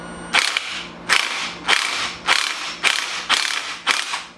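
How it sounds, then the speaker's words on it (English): An impact wrench hammers a nut on a Nissan 350z engine during timing assembly removal, close and loud, in six rapid rattling bursts evenly spaced about half a second apart. "took my impact to it, and buzzed it and hit it, and that broke the nut"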